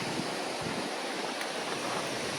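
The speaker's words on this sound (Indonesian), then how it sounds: "Oh, air terjun Tengkure." Tengkure waterfall on Mount Rinjani, along the Torean trail, roars as a dense, steady wash of falling water, loud and continuous with no talk.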